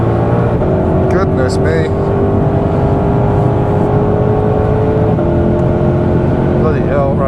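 Shelby GT500 engine pulling hard around the Goodwood track, a loud, steady in-car drone that holds high revs throughout, with a voice speaking over it.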